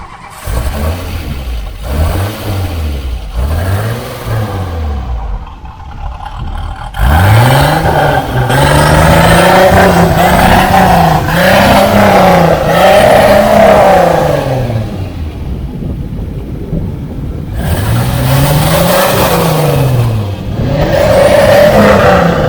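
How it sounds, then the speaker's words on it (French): A Venturi 221 Cup sports car engine revs repeatedly in rising and falling surges, loud and close, with short pauses between bursts and a sustained deep rumble. "Alors ce moteur, écoutez, on va le faire vibrer un petit peu"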